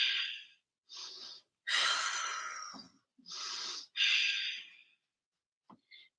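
Deep, audible breaths taken during a yoga pose, with five or six long breathy inhales and exhales separated by short silences, close and alone, ending with a couple of faint soft sounds.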